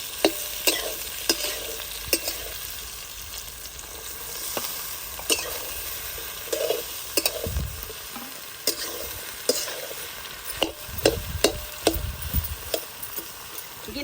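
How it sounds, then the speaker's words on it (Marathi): Sponge gourd pieces cook in a little leftover oil in a kadhai over a wood-fired chulha, giving a steady close sizzle. Repeated sharp scrapes and clacks from stirring come every second or so, and a few deeper thumps sound near the end; no one speaks. "तेल थोडंसं कढईमध्ये उरलेलंच आहे त्या तेलामध्ये आपण गिलके भाजून घ्यायचे"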